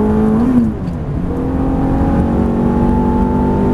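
A Ferrari F430 engine is heard close and loud under hard acceleration on track, its rising tone breaking briefly at a gear change into fifth, then climbing steadily again.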